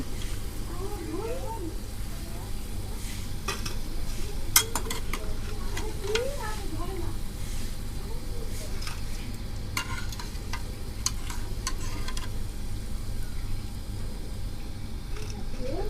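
Food frying in hot oil gives off a continuous close sizzle, with scattered clinks and scrapes of a utensil against the pan and soft background murmurs under it.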